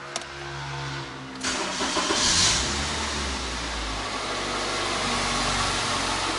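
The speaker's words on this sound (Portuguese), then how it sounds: "Vamos dar a partida no carro e ver como é que ele funciona." A cold, misfiring Toyota Fielder engine cranks briefly, catches with a sharp burst, then settles into a steady, slightly uneven, slightly raised idle, close by and with no talking.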